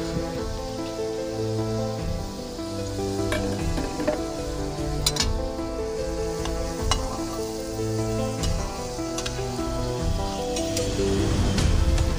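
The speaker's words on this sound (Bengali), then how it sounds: "এবার আমি একে একে পিঠেগুলো দিয়ে খুব হালকা হিটে খুব সুন্দর করে গোল্ডেন কালার করে আমি ভেজে নেব" Pitha cakes frying one after another in hot oil over low heat, a dense continuous sizzle and crackle up close, with occasional scrapes and taps of a utensil.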